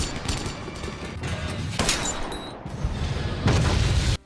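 Gunfire in a mafia film scene comes as a rapid fusillade of sharp shots and booms over a busy, dense background, with a louder burst near the end.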